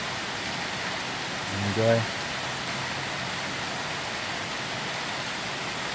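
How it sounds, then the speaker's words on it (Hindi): Steady, even rain falls in Tbilisi, Georgia, a constant broadband hiss that fills the whole scene, with a voice speaking briefly near the start. "अभी बारिश शुरू हो गई है।"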